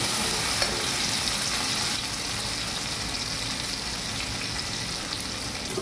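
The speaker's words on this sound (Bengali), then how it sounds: "পটলটাকেও সেই মতোই ভেজে উঠাবো।" Slices of pointed gourd (potol) fry in hot oil with a steady, close crackling sizzle that holds at an even loudness throughout, with no talking.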